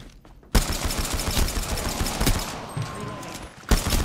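P2020 pistol shots in the video game Apex Legends, loud quick-fire bursts after a brief quiet opening, with a short pause before firing resumes at the end.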